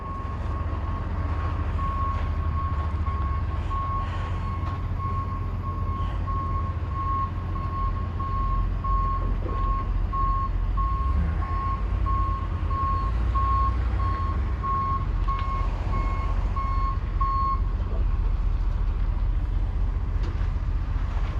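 A vehicle's reversing alarm beeps in a steady, evenly spaced series for most of the stretch over a loud, constant low engine rumble, then stops while the rumble continues.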